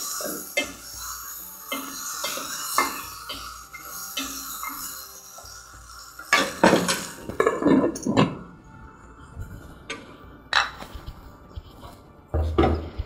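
Chicken stir-fried in a wok, with scraping and clattering of metal against the pan and intermittent sizzling, near and moderately loud, a cough or two mixed in.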